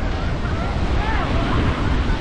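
Ocean surf rolling in at Mount Lavinia Beach, Sri Lanka, a steady broadband wash with wind buffeting the microphone and faint distant voices mixed in.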